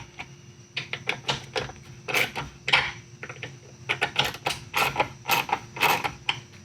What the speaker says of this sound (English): Take these out, I'm just using a T20.